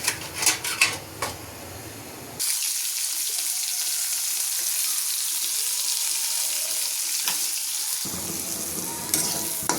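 Vegetables hit a hot pan on a gas stove, a few clattering knocks giving way to a loud, steady sizzle that holds for several seconds before clinks return.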